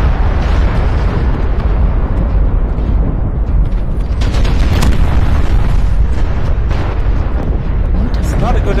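Heavy explosions and booms tear through a 100-ton Atlas mech in MechWarrior Online, loud and continuous with dense rumbling bursts, while speech runs underneath.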